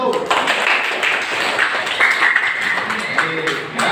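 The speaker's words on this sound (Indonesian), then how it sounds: "Mana tepuk tangannya untuk kelompok 1?" A classroom group applauds for Group 1 during a lesson presentation, with a few seconds of brisk, fairly close clapping mixed with voices.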